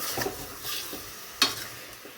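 Chicken pieces sizzle softly as they roast in a pan while a utensil scrapes and stirs in a few short, sharp strokes.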